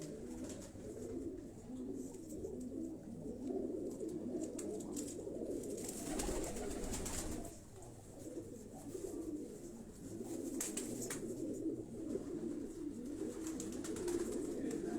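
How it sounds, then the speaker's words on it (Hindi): Soft, low cooing from pigeons continues throughout, fairly quiet, with faint background noise and occasional rustles. "ये चक 79 वाले कबूतर हैं।"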